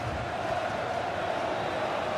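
A football stadium crowd in the video game FIFA 23, during a Champions League qualifying match between Sturm Graz and PSV Eindhoven, sends up a steady, moderately loud roar of cheering, with no talk over it.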